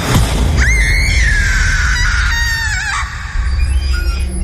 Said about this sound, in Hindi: औरत की चीखने की आवाज सुनाई देती है